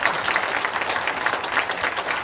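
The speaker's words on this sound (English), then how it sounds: "give them some applause as they come forward" Audience applause at a magician's stage show during a pageant, a steady wash of many hands clapping throughout, fairly close and full, with no talking on top.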